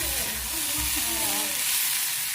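Tomato, onion, coriander and garlic fry in hot oil with a continuous dense sizzle and a faint low bubbling underneath. No one speaks.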